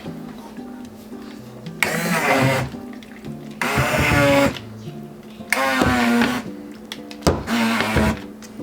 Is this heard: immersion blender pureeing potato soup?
yes